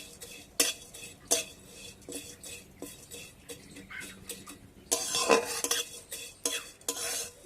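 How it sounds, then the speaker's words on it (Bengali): Vermicelli frying in ghee over low heat, a soft sizzle under repeated scraping and clinking as a utensil stirs it in the pan, with a louder sizzling burst midway. "তো সিমুইটাকে আমি ঘিয়ে ভেজে নেব"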